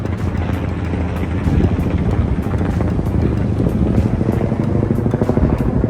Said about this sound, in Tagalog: May umiikot na helicopter.